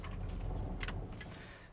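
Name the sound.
jangling truck ignition and door lock keys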